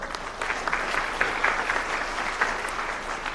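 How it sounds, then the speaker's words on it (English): Steady applause from an audience at a hall of fame induction ceremony, a dense wash of clapping that holds throughout at moderate loudness. "round of applause for Mark"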